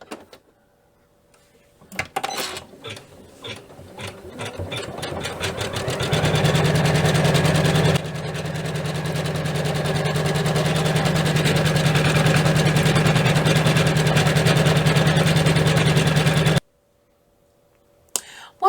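A sewing machine stitches fabric for a zipper pouch in one continuous run. It starts with a few stitches, speeds into a fast, even whirring rattle and stops abruptly, with faint talk around it.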